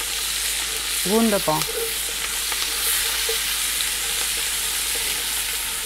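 Onions and garlic sizzling with bacon in a pot for chili con bacon, a steady close crackling hiss throughout, with a short spoken exclamation and faint stirring clinks over it.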